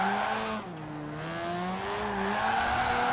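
A Mazda RX3 drifts through a drift zone in Forza Horizon 4. The engine wails and shifts pitch as the revs rise and fall, and tyres squeal close by for the full few seconds.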